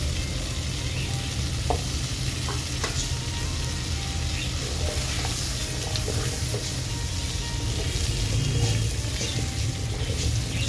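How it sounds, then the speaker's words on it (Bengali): Potatoes frying in a little oil, a thick unbroken sizzle close up with occasional light stirring clicks and a low background hum, no speech. "এবার আমি এর মধ্যে আলুগুলো ভালো করে ভেজে নেব।"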